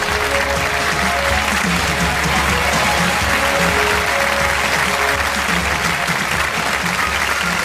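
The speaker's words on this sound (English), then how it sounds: "a nice round of applause for my laboratory assistant, Nikki Terminator." A live comedy-magic show audience gives a sustained round of applause, dense and even throughout, with faint crowd murmur mixed in.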